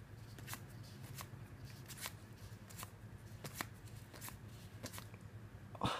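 Magic: The Gathering cards from a holiday gift box pack being flipped through by hand, producing a run of crisp, close card snaps and slides at an irregular pace, with a low background hum.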